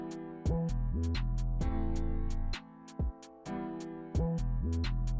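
A drill beat programmed in FL Studio with the second snare moved to beat four: sliding 808 bass notes, a crisp snare and hi-hats, and a bouncy, syncopated rhythm, played alone without talk.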